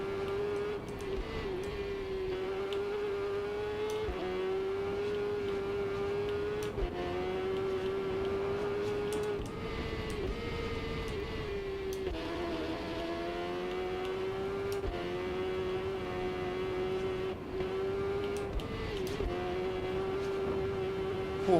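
A Honda racing motorcycle at high speed in a TT racing game, a loud sustained engine whine holding steady pitch with brief dips at gear changes, continuous and close.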